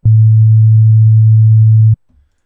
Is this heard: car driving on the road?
no